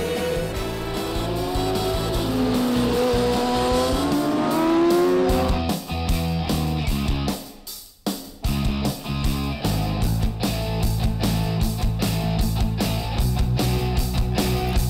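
Racing motorcycles on the Val de Vienne circuit at Le Vigeant during a French superbike championship round, engines screaming and shifting through gears as machines pass, with a brief dip before the roar returns loud and continuous.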